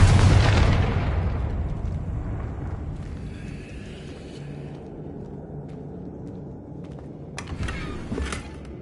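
A Confringo spell explosion in Hogwarts Legacy opens with a loud, deep blast that rolls off into a long rumbling decay, with lighter magical effects following.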